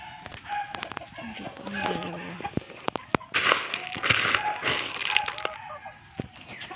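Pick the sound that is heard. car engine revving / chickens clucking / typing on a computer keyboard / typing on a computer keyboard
chickens clucking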